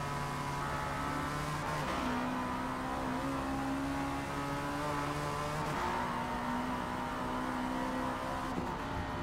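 A continuous, loud car engine drones and revs in the Forza Motorsport 8 racing game, with pitch shifts as the gears change. No one speaks over it.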